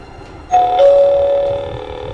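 A smart doorbell gives a steady electronic beep tone once for a normal temperature below 37.5 degrees, held for about a second, with a faint hum in the background.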